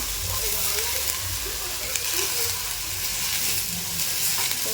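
Country-style cluster beans (gavar) frying in a pan for a spicy thecha give a dense, continuous sizzle, close and even, with soft stirring scrapes throughout.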